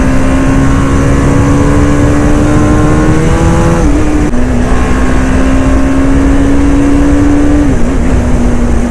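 A Kawasaki H2 motorcycle at full power, its loud engine note climbing steadily in pitch with a brief dip at a gear change midway and another near the end, close and continuous throughout.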